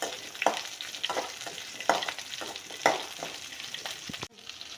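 Mudakathan greens (balloon vine leaves) sauté in a hot pan with a soft, continuous sizzle, punctuated by regular spatula stirs about once a second, then a final clunk.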